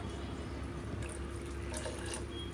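Water poured into rice in a pot while making pulao, a steady continuous rush of liquid running close by with no talk over it.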